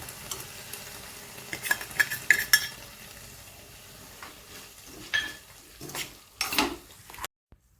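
Yogurt being stirred into a bell pepper curry in a pan, soft moist sizzling under clinking spoon strikes and scraping stirs against the pan, ending abruptly in silence.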